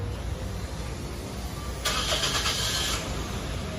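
A Toyota Altis engine, started by remote, cranks and catches at close range, then idles steadily over a constant background hum.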